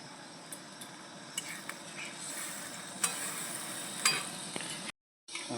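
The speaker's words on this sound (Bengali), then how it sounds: "এবার আমি জল দিচ্ছি" Water goes into a frying fish curry with tomato, and the hot pan answers with a steady hiss and sizzle. A few light utensil clinks sound against it before a brief cutout near the end.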